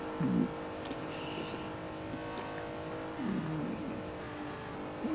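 Ferrari 330 P4 race car engine at Spa heard from the cockpit, a steady droning engine note with two brief rising revs or shifts, close and continuous.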